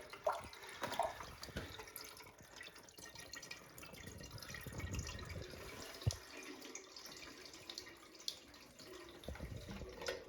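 Water trickling and dripping down through a holiday fountain with a flapper, a faint continuous splashing flow with small drips and occasional knocks, heard alone.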